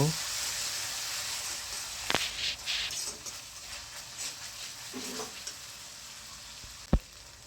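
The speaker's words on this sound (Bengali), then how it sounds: "ভাজা হয়ে গেলে পরিমাণ মতো আদা রসুন বাটা দিয়ে দিব" Ginger-garlic paste sizzles in hot oil with chopped onions for a homemade chicken and coconut curry: a steady frying hiss broken by a few stirring scrapes and one sharp utensil clank near the end.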